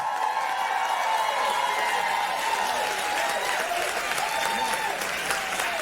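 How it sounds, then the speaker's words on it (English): An audience at a library's centennial celebration applauds a cultural arts center dance troupe, sustained crowd clapping with light cheering and a musical tone running underneath. "Give them a big round of applause."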